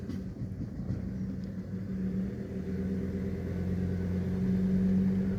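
A car rolling slowly down through a green gorge in the Flinders Ranges gives a steady low engine and road rumble, close and continuous, slowly growing a little louder.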